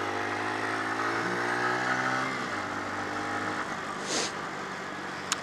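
A motorcycle engine drones steadily, its pitch shifting downward partway through, with a brief whoosh and a click near the end.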